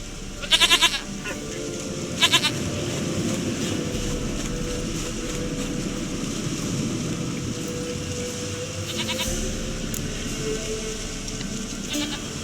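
Goat bleats in a fantasy video game: a couple of sharp calls near the start, then a steady bed of rain-like ambience and low rumble, with another faint bleat later on.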